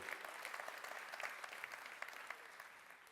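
An audience at a startup demo day in Torino breaks into brief, fairly soft applause, a steady patter of many hands clapping that slowly thins out.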